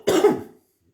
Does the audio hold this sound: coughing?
yes